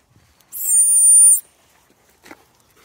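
A dog training whistle gives one high, steady blast lasting about a second, clear against near silence, followed by a faint brief rustle.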